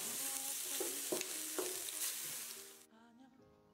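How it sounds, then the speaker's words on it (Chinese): Oyster mushrooms with cumin, salt, oyster sauce and soy sauce are stir-fried in a wok with a bright, steady sizzle and a few spatula scrapes, quieting abruptly near the end. "翻炒均匀就可以出锅了"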